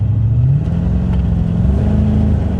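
A 1985 Chevy Corvette engine revs as the car accelerates, a loud steady low drone with rising pitch, close and continuous with no talk.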